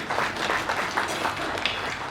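An audience at a comedy night cultural function claps steadily for about two seconds, a dense patter of many hands with no voices over it.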